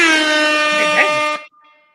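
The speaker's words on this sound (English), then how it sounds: "Air Horns." A loud, blaring air horn sounds in one sustained blast at a barbecue restaurant in New Orleans, Louisiana, then cuts off abruptly, leaving a faint tail.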